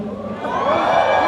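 A live audience at a premiere event shouts and cheers in a short, bright burst of overlapping voices that rises and holds.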